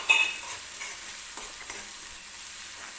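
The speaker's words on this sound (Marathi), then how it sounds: "व्यवस्थित बारीक गॅसवरती हिरवी मिरची आपल्याला तेलामध्ये भाजून घ्यायची आहे" Green chillies fry in oil over a low gas flame, a soft continuous sizzle with an occasional light stirring scrape, close and quiet with no talk.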